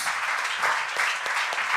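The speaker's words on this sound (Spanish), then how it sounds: "Vamos a aplaudir al Señor Jesús." A church congregation applauds, a dense, even wash of many hands clapping that holds steady at full volume throughout.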